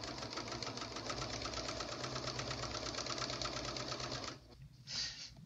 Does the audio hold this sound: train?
no